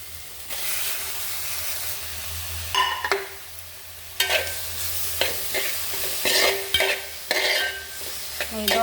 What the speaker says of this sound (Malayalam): ഇനി ഇതിലോട്ട് നമുക്ക് തക്കാളി ഇട്ട് കൊടുക്കാം.